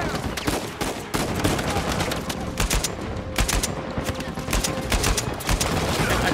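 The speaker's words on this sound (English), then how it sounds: "Ooh, shotgun." Shotgun and other gunfire in the Uncharted 4 video game: dense, continuous bursts of loud blasts and rapid shots over a steady roar of combat noise, with no clear gaps.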